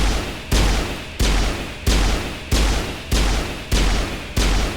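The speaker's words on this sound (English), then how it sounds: "It's a heavy pistol. Fires." Heavy pistol fired repeatedly in the video game Mass Effect, seven loud booming shots at an even, slow rhythm, each with a sharp attack and a long decaying tail.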